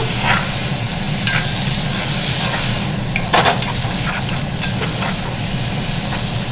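Swamp eel fish curry with tomato being stirred in a pan: a steady sizzle with occasional sharp scraping clinks of the utensil against the metal, close and fairly loud, with no voices.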